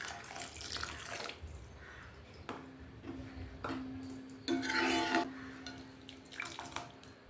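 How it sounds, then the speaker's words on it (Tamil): Water pours into a pot of tamarind-based eggplant and peanut curry in several short runs, splashing and rising in pitch as it fills, with clinks of metal between pours. "தேவையான அளவு தண்ணி சேர்த்துக்கலாம்."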